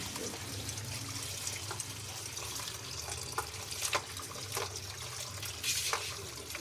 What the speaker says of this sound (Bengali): ওই যে কামরাগুলো পেরেছিলাম সেগুলো দেখতে পাচ্ছেন যে আমি ধুয়ে নিচ্ছি